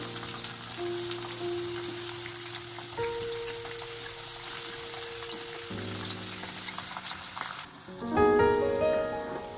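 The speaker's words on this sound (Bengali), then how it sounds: "এখন ভেজে নেব তেলে। প্রথমে পেঁয়াজগুলোকে দিয়ে দেবো" Onions hit hot oil in a pan with a continuous close sizzle and occasional stirring, while soft background music plays and grows louder near the end.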